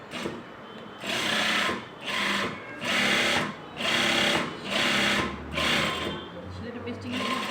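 A sewing machine stitches a shirt collar in rhythmic bursts, about seven runs of steady mechanical whirring separated by short pauses, loud and close, with a voice talking quietly underneath.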